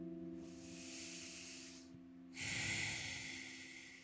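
Slow, deep yoga breaths: a long, airy inhale through the nose, a short pause, then a stronger, louder exhale, close and intimate over a faint steady hum.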